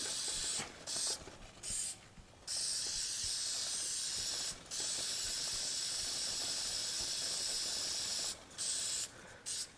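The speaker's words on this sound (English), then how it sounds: "I can just take this chain cleaner and just spray it." An aerosol can of chain cleaner sprays onto a motorcycle chain in several bursts, some short and one long continuous hiss, recorded close up with no talking.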